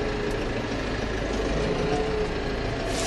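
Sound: Case IH Farmall 95 U Pro tractor engine idling

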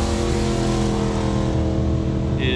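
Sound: four motorbikes riding the Cherohala Skyway

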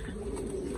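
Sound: pigeons cooing

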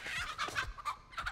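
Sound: chicken clucking in the video game The Texas Chainsaw Massacre

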